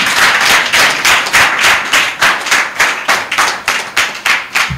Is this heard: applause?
yes